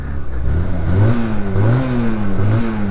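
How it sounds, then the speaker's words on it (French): A 1999 Honda Rebel 125 motorcycle engine revs up and down in three rising pulls, loud and close, with a low mechanical drone between throttle blips. "On est sur une Honda Rebel 125 de 1999 je crois"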